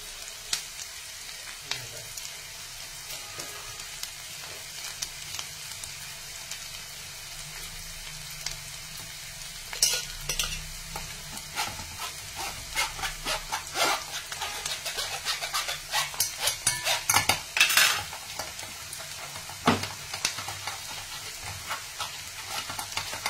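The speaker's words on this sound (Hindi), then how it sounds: "प्याज को बहुत अच्छे से ही भूनना है" Onions frying in a pan, a continuous soft sizzle with intermittent scraping stirs that grow busier and louder midway, close and without talk.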